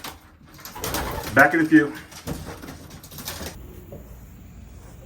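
Racing pigeon cock birds in a loft, cooing in short low bursts close by, mixed with someone talking and a brief knock like a door.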